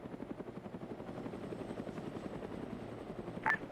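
Helicopter rotor thumping steadily in an Arma military campaign battle, a rapid rhythmic chop that holds at moderate distance throughout, with a brief sharp burst near the end.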